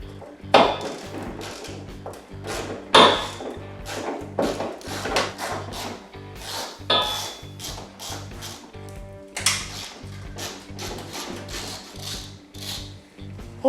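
Ratchet clicking while 10mm bolts come out of the pinch seam at the bottom of a 2013 Jeep Wrangler JK fender, close and fairly loud, in bursts of rapid pawl clicks with short pauses and occasional metallic clunks.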